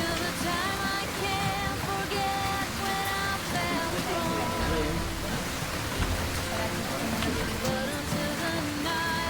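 Steady hiss of heavy rain in a TV drama scene, continuous and loud, mixed with background music tones throughout.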